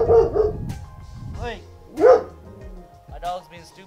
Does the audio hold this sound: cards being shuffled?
no